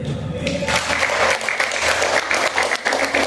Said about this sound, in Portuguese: dando uma salva de palmas para Jesus em favor da vida da minha esposa